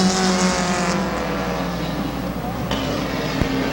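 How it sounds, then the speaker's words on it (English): Race cars roar around Midvale Speedway, a loud continuous engine drone with shifting pitch as cars run side by side, a commentator talking over it throughout. "Side by side for the number 4 position, Jill Harshey and Corey Evie."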